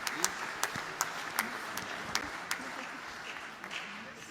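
Applause from an audience at an aviation federation congress prize presentation, fairly quiet and distant, with scattered sharper claps standing out and a voice talking over it.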